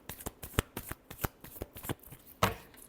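Tarot cards are shuffled by hand in quick riffling and snapping bursts, close and fairly quiet, with one sharper slap near the end and no voices.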